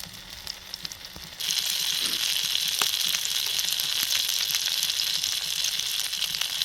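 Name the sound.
sausages and black pudding frying on a Trangia stove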